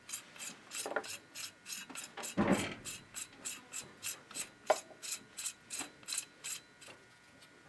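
A part being screwed back into an Akkar 335 turkey shotgun, heard as close, quiet repeated rasping and ratcheting twists in an even rhythm, with one louder scrape partway through.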